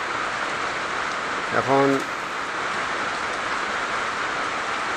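Steady rain falls outside a rural cattle and goat shed in Bangladesh, a constant hiss filling the whole clip, while someone briefly speaks over it.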